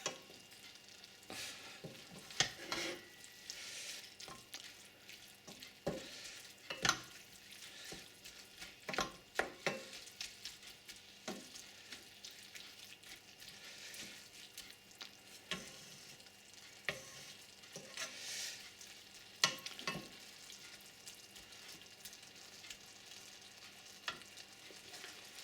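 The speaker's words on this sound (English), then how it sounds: "So now you can see that the mince is more or less browned off" Beef mince for lasagne sizzles and crackles in a frying pan as it browns, with repeated scraping clicks of a utensil stirring it, close and fairly quiet, without speech.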